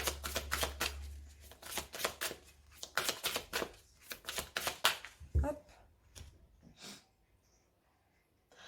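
A deck of oracle cards is cut and handled up close: a quick run of crisp, papery riffles and slaps, then a few softer taps trailing off into quiet.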